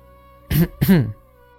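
A young man gives a light, close throat clearing in two short voiced bursts, a brief cough-like 'ahem' performed by a voice in a quiet room.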